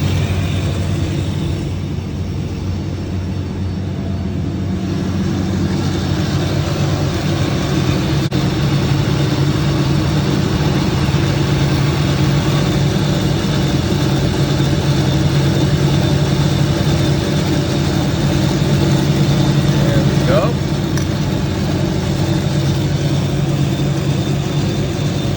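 A DM1100C machine rounds the edges of small plasma-cut steel parts, giving a loud, steady mechanical drone and hum that runs unbroken throughout, with no voices.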